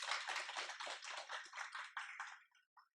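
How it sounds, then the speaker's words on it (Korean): Applause from a lecture audience closing out a civil-service exam English review class, a dense burst of many hands clapping that holds steady for a couple of seconds, then thins and trails off into a few last scattered claps. "도움 되셨으면 모두를 위해서 박수 한번 치고 마칠까요?"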